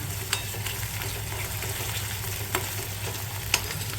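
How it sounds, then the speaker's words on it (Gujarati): Onions and chillies sauté in oil in a pan, giving a steady close sizzle under a low hum, with a few sharp clicks of stirring and no talking. "આને હવે એકદમ બ્રાઉન થવા દઈશું, ત્યાં સુધી સાતળવા દઈશું."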